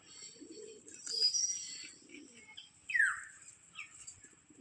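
Pigeons kept outdoors in the early morning, with soft low cooing at the start and again around the middle, mixed with brighter chirps and a sharp high call, fairly near and moderately loud.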